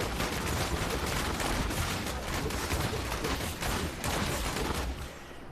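A Demon Hunter's Vengeance skill in Diablo Immortal unleashes a dense, relentless barrage of rapid shots, loud and steady for several seconds before easing off at the end.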